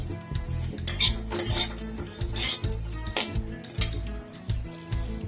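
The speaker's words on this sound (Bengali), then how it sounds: "প্রথমে আমি শুকনো খোলায় এই মৌরি আর রাঁধুনিটা একটুখানি নেড়ে নেব।" Fennel and radhuni seeds are dry-roasted in a kadai, a metal spatula scraping and clinking against the pan in repeated strokes, close and fairly quiet, with no talking.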